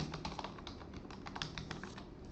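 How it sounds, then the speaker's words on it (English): A password being typed on a computer keyboard, quiet rapid key taps in an irregular run, close and faint with no talk. "proceed and type your password"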